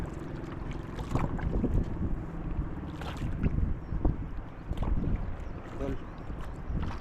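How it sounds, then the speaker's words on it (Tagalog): A boat comes in across open water, its engine rumbling under gusty wind buffeting the microphone and the wash of water, with voices calling out nearby over the noise. "Dumating na bangka"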